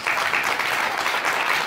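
A church congregation claps at a sermon, producing a short, dense, continuous burst of applause that stays even and fairly loud throughout.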